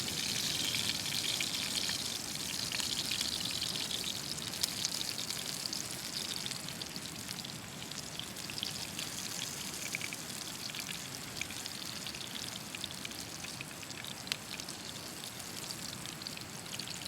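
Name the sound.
roaring ocean waves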